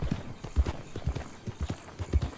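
Horse hooves in Red Dead Redemption 2, a steady clip-clop of hoofbeats at a walking or trotting pace, close and distinct over quiet background.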